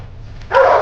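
A single sharp dog bark at a dog shelter, loud and close, rising out of a quiet low background near the end.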